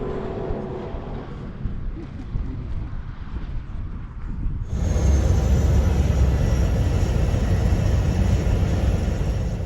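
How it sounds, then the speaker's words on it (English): A small single-engine commuter plane droning in flight between Kona and Maui in Hawaii, its steady cabin engine noise rising sharply midway to a loud, constant roar. "So here's the flight I took from Kona to Maui on this little commuter plane."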